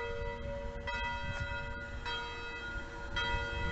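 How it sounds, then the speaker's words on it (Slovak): Church bell ringing from a bell tower near a Greek Catholic church in Sobrance, Slovakia, heard outdoors at a moderate distance as sustained, overlapping metallic tones over low street and ambient rumble. "vo zvonici zvoní zvon práve"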